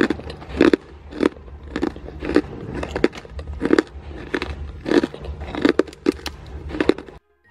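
Someone bites into crunchy homemade fried snack chips, giving about a dozen sharp, loud crunches close to the mic in an uneven rhythm, then silence.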